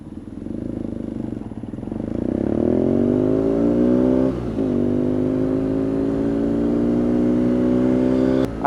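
A BMW R nineT motorcycle engine revs while riding, a loud steady drone that rises in pitch under acceleration, dips briefly with a gear change, then holds at a higher pitch with no talking.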